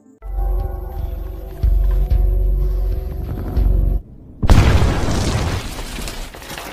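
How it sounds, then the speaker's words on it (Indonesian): Liquid nitrogen blasting a large boulder in a film scene: a droning, tonal buildup with heavy thuds, then a sudden loud explosive burst of broad, crackling noise that stays harsh and close. "Alex menyiapkan nitrogen cair untuk meledakkan batu besar"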